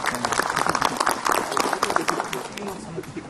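A crowd applauds at an Islamic lecture gathering, dense clapping mixed with voices and cheering, continuous and fairly loud throughout.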